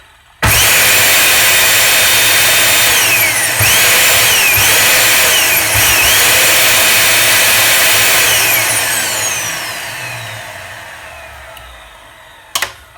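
A repaired Samsung vacuum cleaner motor switches on with a sudden jump to a loud, high whine. It holds steady for several seconds, then spins down gradually and fades before a short click at the end.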